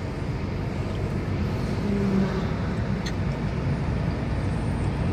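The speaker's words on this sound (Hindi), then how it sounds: "बहुत ही स्मूथ चलता है ये कार" A 2020 Tata Nexon on a test drive in traffic, a steady muffled engine and road hum heard from inside the cabin, with a passing bus and traffic around, no voices.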